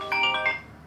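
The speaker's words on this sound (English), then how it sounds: "I don't understand why my phone rings so much." A mobile phone ringtone chimes in a short burst of bright electronic tones, fairly close and alone with no talking, then fades off.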